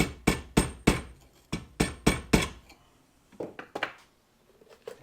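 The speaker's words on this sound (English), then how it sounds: "Tamp it down some more." Sharp, evenly spaced knocks ring out as propellant is tamped into a homemade rocket motor tube, about eight firm strikes followed by softer, scattered taps, close and without speech.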